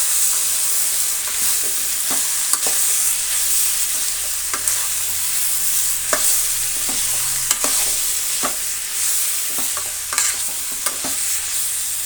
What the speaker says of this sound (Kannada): ಟೊಮೆಟೊ ಸೇರಿಸಿ ಚೆನ್ನಾಗಿ ಫ್ರೈ ಮಾಡ್ಕೋಬೇಕಾಗತ್ತೆ